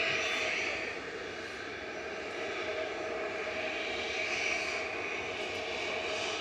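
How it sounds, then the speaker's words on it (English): An Emirates jet airliner climbs away from Manchester Airport, its engines giving a continuous broad roar that dips slightly after the first second, then holds steady, heard alone without talk. "So the Emirates there on its Select 1 Yankee departure, turning to avoid Knutsford"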